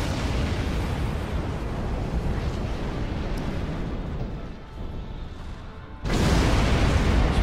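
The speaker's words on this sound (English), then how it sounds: "That could have been a cool explosion shot." Explosion in the space game Star Trek Online, a sustained loud rumbling roar that eases and thins out, then surges back with a sudden heavy burst near the end, with no voices over it.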